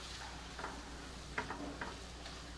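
Onion and tomato sautéing in oil in a pan on medium heat for mushroom kheema, a faint steady sizzle with a few soft stirring scrapes and clicks, no talking.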